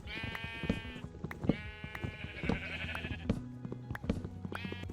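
Several sheep bleat close by in the video game Minecraft, repeated overlapping bleats in quick succession with no voices.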